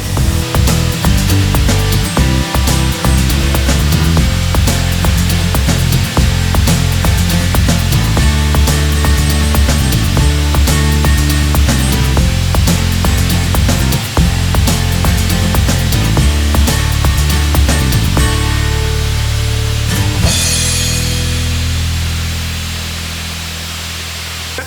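Sandblasting the stripped body of a Toyota BJ40 during restoration: a loud, continuous blast hiss with repeated sharp grit impacts and bursts, running steadily before easing off and fading near the end.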